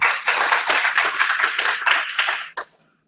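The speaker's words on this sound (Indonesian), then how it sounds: "Berikan tepuk tangan dulu." Church congregation clapping during a worship service, a dense burst of many hands applauding for about two and a half seconds, then stopping abruptly with a single trailing clap.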